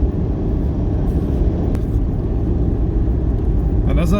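Car driving along a coastal road in Gujarat, India, past salt flats, giving a steady loud low engine and road rumble throughout with no pauses, close to the microphone.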